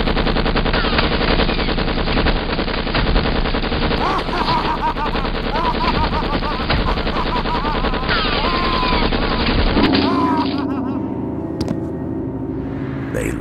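A Tommy gun fires long, continuous rapid bursts, loud and dense for the full stretch, with shots blurring into a steady rattle and some slightly quieter sustained firing toward the end.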